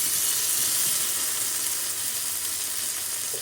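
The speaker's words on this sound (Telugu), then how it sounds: "ఇందులో గోల్డెన్ బ్రౌన్ కలర్ వచ్చే వరకు ఫ్రై చేసుకోవాలి" Fish frying in oil in a covered pan, a steady bright sizzle that stays even and loud throughout with no voices.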